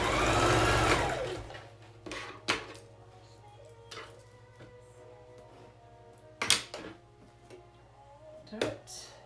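A sewing machine stitches darts in a fabric face mask, starting with a loud whirring run of stitching and then quieter short bursts and clicks as the fabric is adjusted, close by.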